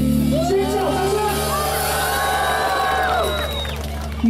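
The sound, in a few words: concert crowd screaming and applauding at rock show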